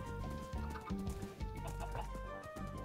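Chickens cluck in the video game Minecraft, several short clucks over a steady layer of game music, with no talk.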